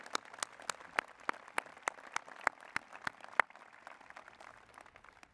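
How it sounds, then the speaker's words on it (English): An audience at a university president's inauguration claps in a faint, thin round of applause, a few distinct claps in steady rhythm heard from a distance, fading out after a few seconds. "Give my mentors a round of applause."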